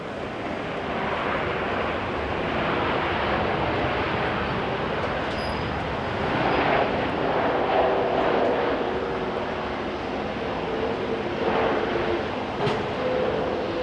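A Malaysia Airlines jet at Auckland International Airport makes a steady, broad roar that swells slightly midway, heard from a distance with no talking.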